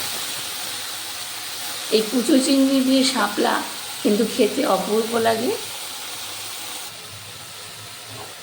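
Small shrimp fry on a high gas flame, a steady sizzling hiss running beneath someone speaking Bengali.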